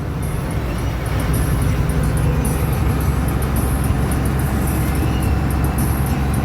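A car engine hums steadily while driving to Ranavav, Gujarat, with constant low rumble and road noise throughout and no breaks.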